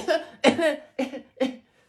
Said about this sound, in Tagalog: May ubo kasi ako, tamo may sakit ako.